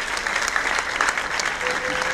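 Audience applause at an event honouring a supporter, a dense, continuous spread of clapping from a crowd, moderately loud and steady, with faint voices underneath.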